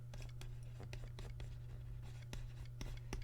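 Pen scratching out a GCSE maths calculation for a rectangle's area, soft scattered strokes and taps over a steady low electrical hum, close and quiet.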